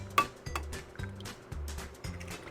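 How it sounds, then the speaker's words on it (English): Milk and egg are whisked together in a bowl in an RV kitchen, producing a quiet, regular rhythm of light clinks and taps about twice per second, close and soft. "Get that all whisked together."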